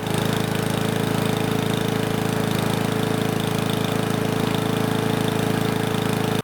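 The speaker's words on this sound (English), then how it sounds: "So it's revving at just over 3200, which is perfect." Powermore lawnmower engine running steadily at high RPM after a throttle adjustment, a loud continuous drone with even rhythm that cuts off abruptly at the very end.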